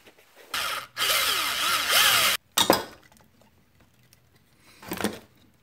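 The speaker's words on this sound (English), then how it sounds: "according to the instructions, you should be able to use a drill to make a little hole" A power drill bores a small hole through moldable Instamorph plastic formed into a camera mount: two loud sustained whirring bursts, a short sharp burst after them, then a quieter burst near the end, with no talking.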